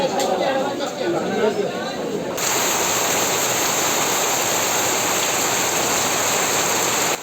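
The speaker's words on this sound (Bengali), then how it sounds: "দেখতে পাচ্ছেন বৃষ্টি শুরু হয়েছে প্রায় আধা ঘন্টা ধরে এখন পর্যন্ত বৃষ্টি থামছে না" Rain pouring over an open village market, heavy and steady hissing that fills the scene, with people's voices and chatter mixed in during the first couple of seconds.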